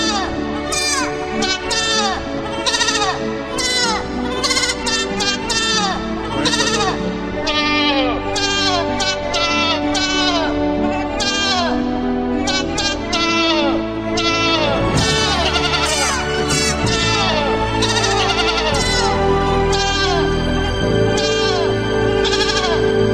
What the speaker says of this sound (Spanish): van a escuchar el himno del Real Madrid del año de la cabra.